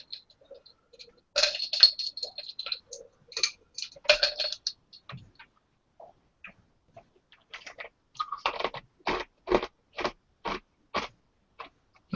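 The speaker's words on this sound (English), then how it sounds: "Now, who's crunching away there? That would be me. That ice." Ice is crunched and chewed close to a microphone, with scattered crisp cracks at first, then a run of evenly spaced crunching bites toward the end, quiet and without speech.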